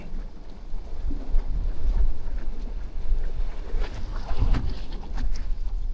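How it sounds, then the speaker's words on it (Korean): Strong wind buffets the microphone outdoors while fishing near Gangneung, a rough low rumbling roar that gusts and swells unevenly throughout. "바람이 엄청 부네요"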